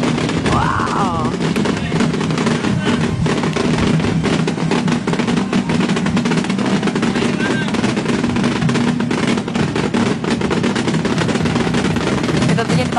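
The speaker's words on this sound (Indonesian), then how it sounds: "banyak sekali kembang api yang ditembakkan." Loud, rapid bursts of New Year fireworks in Indonesia crackle and bang almost nonstop, overlapping into a dense barrage, with faint voices underneath.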